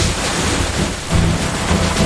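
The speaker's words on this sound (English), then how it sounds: "turn on the water, splash, splash, splash" Tap water runs and splashes steadily into a sink during handwashing, a loud continuous rushing hiss without any voices.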